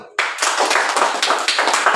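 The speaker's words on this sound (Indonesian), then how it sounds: "Oke, tepuk tangan dulu." Classroom students clapping hands in applause during a lesson on fiscal policy, a dense burst of claps starting abruptly and continuing steadily for a couple of seconds, fairly loud and close.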